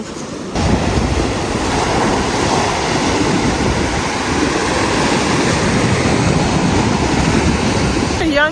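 Sea waves wash and churn continuously near the shore, a loud dense rushing roar that stays steady for several seconds, with some wind buffeting on the microphone.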